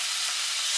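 Beef searing in olive oil and Szechuan pepper oil gives a steady, dense, hissing sizzle, loud and close, with no pauses and no voices.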